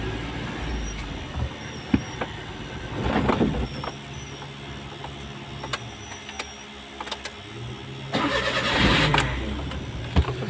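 A car engine cranking and failing to catch, with several short bursts of starter grinding and sputter, the longest near the end, amid quieter ambient noise outdoors.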